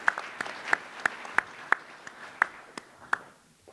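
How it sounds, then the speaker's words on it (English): Sparse clapping from a breakfast-forum audience at a banking and lending panel, about ten distinct, evenly spaced claps that are fairly faint, like one or two people rather than a full room. "Round of applause."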